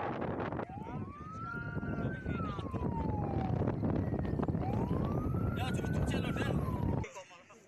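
A fire truck siren at a burning landfill wails, rising and falling twice, loud and close, over rumbling wind and traffic noise, then cuts off abruptly.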